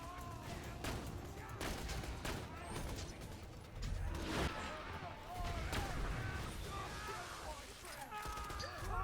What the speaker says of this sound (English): So there is the reload in between.